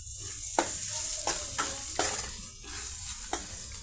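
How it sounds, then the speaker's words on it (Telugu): Sliced ivy gourd frying in a pan, a soft steady sizzle broken by about eight sharp scrapes of a spatula stirring and turning the pieces, close and fairly quiet with no talk. "మన దొండకాయలు ఈ విధంగా ఫ్రై అయ్యాయండి."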